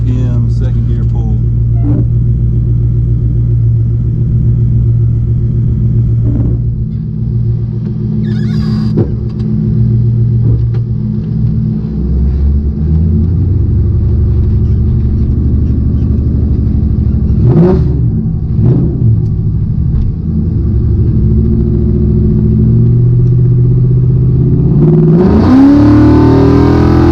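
Car named Coyote Ugly pulling hard in second gear from about 2,000 to 6,000 RPM: a loud, steady engine roar that climbs in pitch, with a gear change or lift near the end and a voice talking over it.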